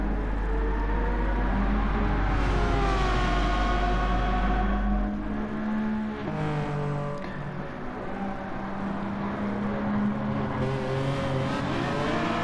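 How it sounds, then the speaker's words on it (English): Lamborghini and Ferrari race cars battle on a track, the Ferrari sliding its rear out under power; loud, close engines roar and rev steadily, with shifting pitch as the cars accelerate and change gear. "The Lamborghini holding its own, the Ferrari sliding that back end out while it's on power, trying to get past"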